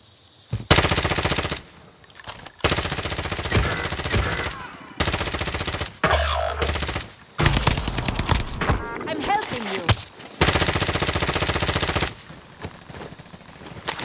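Loud bursts of automatic gunfire ring out in the Warzone Pacific battle royale game, several sustained volleys separated by short gaps, with players talking in between.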